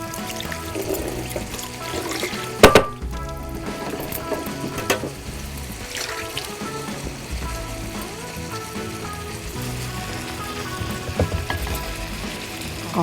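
Tamarind is squeezed and dissolved by hand in water for a vegetable kara kuzhambu, giving soft wet squelches and trickling splashes, with one sharp clatter near the start, all at close range.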